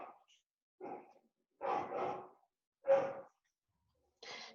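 A pet dog barks at home in about five short, separate bursts spaced roughly a second apart. The barks are fairly close and moderately loud, with quiet gaps between them and no talking.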